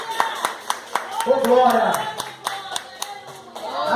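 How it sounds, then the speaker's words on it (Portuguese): Rhythmic congregational clapping at an evening church service, sharp evenly spaced claps keeping a steady beat under a preacher's loud voice. "Aplauda Ele mais forte"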